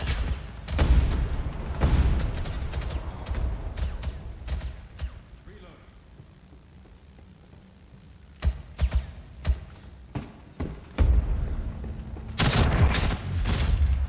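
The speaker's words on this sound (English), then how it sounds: "how many times do you have to shoot the guy to kill him?" Repeated gunshots ring out while shooting an enemy in Ghost in the Shell First Assault Online, sharp cracks in quick clusters over continuous talking and game noise.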